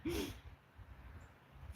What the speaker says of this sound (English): you have sneezed in the squeakiest of ways